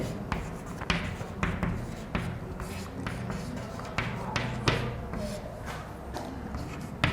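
Chalk or marker writing on a classroom board, a series of close taps and scratchy strokes in irregular bursts, with faint room noise in the background.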